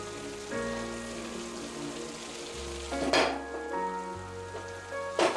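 Cluster beans, soft tomatoes and coriander powder sizzle steadily in a pan while being stirred, with a constant frying hiss, a low background hum, and two sharp scraping clatters near the middle and end.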